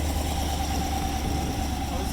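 A 2020 C8 Corvette fitted with aftermarket headers idles in quiet mode, a low, steady rumble close by with a faint whine, even and unchanging for the brief moment.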